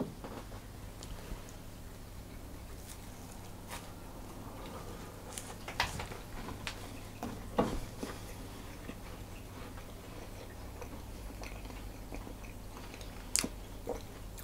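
Soft crunching and chewing of a dark chocolate sandwich cookie with peppermint cream filling, close up and faint over a steady background hum, with a few sharper bites scattered throughout.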